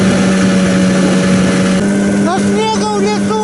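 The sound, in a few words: motor running while travelling, with a 7.5 cargo propeller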